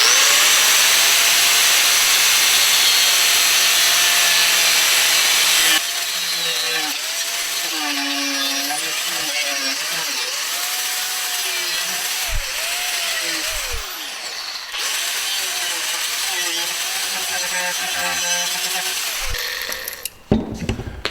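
A Milwaukee power tool cuts through a part clamped in a vise, a loud, steady high whine with wavering pitch that dips and bogs as the blade bites, broken by short pauses and clanks, with no talking.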